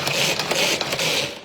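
Electric mini chopper with its lid held down, chopping shallot: a steady, close, whirring motor buzz running without a break for a second and a half.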